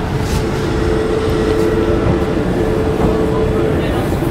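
A passenger train running between Ayodhya and Prayagraj, heard from inside the carriage as a loud, constant rumble with a low hum and faint rhythmic clacks.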